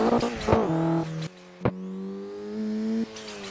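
A Mitsubishi Evo's engine whines and revs in a VR racing game on a mountain touge road, holding steady pitches that rise and drop sharply at gear changes, loud and close throughout.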